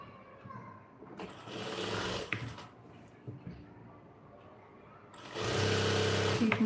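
A sewing machine stitches elastic onto trousers in short bursts, a close whirring rattle that starts, pauses, then starts again, with quiet handling sounds in between.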